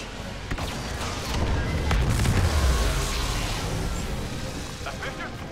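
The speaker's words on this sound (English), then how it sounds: "Ion cannon ready for detonation, Commander." An ion cannon detonation in Star Wars Battlefront 2 rolls out as a loud, broad rumbling blast that swells and slowly fades amid game noise and a voice.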